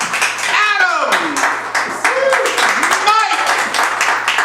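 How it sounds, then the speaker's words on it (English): An improv comedy show audience claps and cheers for a cast member being introduced, a dense burst of hands with whoops and shouted voices rising over it, loud and close throughout. "Big round of applause."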